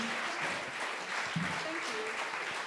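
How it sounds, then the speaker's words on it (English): Audience applause for the winners of a plant carbon drawdown lifeboat debate, with steady clapping throughout and voices talking over it. "A round of applause for our winners."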